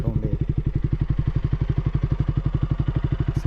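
A KTM RC200 motorcycle idling through a newly fitted silencer, its exhaust giving a rapid, steady, thumping pulse, loud and close, with a faint click near the end.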